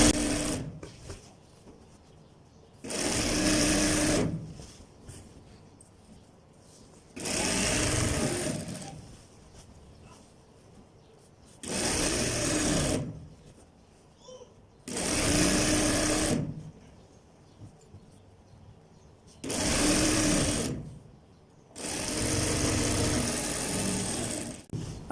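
Sewing machine stitching a straight seam on a gents' pajama, running in five long steady bursts of several seconds each, separated by short quiet pauses.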